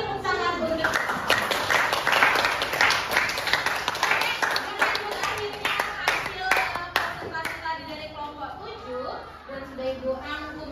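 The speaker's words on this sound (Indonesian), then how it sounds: "Oke, beri tepuk tangan untuk" A group of students in a classroom claps together, rapid hand claps bunching into a lively burst that fades unevenly, with children's voices mixed in.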